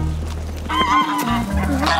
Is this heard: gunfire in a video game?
no